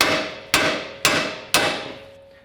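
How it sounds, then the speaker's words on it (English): Four evenly spaced, ringing metallic hammer blows on the steering knuckle of a 2019+ Chevy/GMC 1500 truck, each clang loud and close, decaying slowly, with no talking. "to dislodge this from the knuckle, just take a hammer and"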